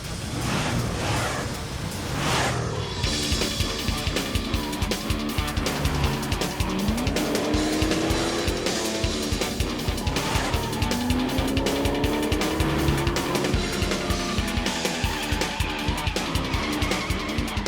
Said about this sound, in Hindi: ओह नो, टेम्पो अन्ना की कार तो स्टार्ट हो गई।